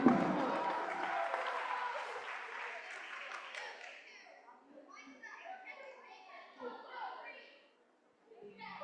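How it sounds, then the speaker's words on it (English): Applause and cheering rise from a crowd at a robotics competition, loudest at first and thinning into scattered claps and voices over several seconds. "There we go, got some applause happening"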